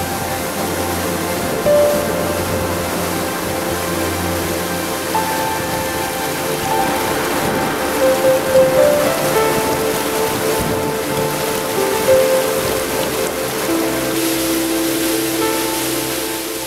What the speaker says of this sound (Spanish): El salto de agua en el extremo del canal, encajonado entre altos tajos, cae en una cascada